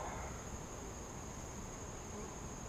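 Honeybees buzzing steadily at an open beehive during an inspection, a faint continuous drone with a persistent high whine throughout, no voices.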